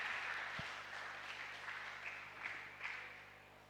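A school audience applauds a guest at an anti-bullying talk show, a steady wash of faint, distant clapping that swells briefly in spots and holds for a few seconds without any voices.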